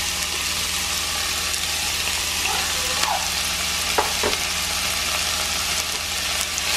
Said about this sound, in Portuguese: Agora eu vou colocar a cebola. Vou colocar o meu alho batido.